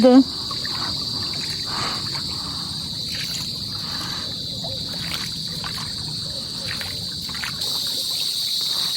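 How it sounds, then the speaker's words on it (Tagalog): Steady high afternoon cricket chirring fills the background continuously by a river, with faint water lapping and soft paddling sounds underneath. "Maririnig mo na kapag ganitong hapon ay kuliglig."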